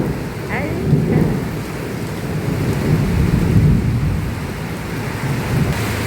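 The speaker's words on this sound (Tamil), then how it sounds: "இடி இடிக்குது." Thunder rolls through a steady heavy rainstorm, low rumbles swelling and fading under constant loud rain on surfaces, with no talking.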